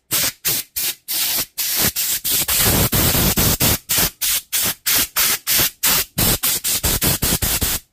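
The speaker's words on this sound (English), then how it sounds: "so we're going to just give it a blow out with the airline." Compressed air from a workshop airline blasts dust out of an opened Dewalt impact driver in a rapid series of sharp, close hissing bursts, about two dozen short blasts in a steady stuttering rhythm with no talk.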